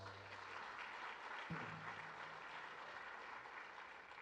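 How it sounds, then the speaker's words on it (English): Faint, distant audience applause at a county awards ceremony, an even sustained patter of many hands clapping with a brief low thud partway through. "Let's give them a round of applause."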